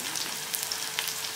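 Onions sizzling and sautéing in a pan, a steady close hiss of frying with faint crackles, alone with no talk.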